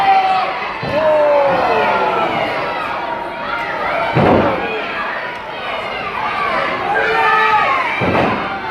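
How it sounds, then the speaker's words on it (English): Repeated heavy thuds of a purple bat striking a wrestler's injured knee during a two-on-one attack at a TWF wrestling event, three loud impacts spaced a few seconds apart over a roaring, shouting crowd and excited commentary. "multiple shots with that purple bat to the injured knee of Johnny Inc."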